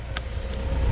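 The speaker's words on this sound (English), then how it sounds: "But backhoe's running great, skid steer's running great" A backhoe and a skid steer running during deep snow plowing, heard as a steady, loud low engine rumble with some wind-like noise and no break throughout.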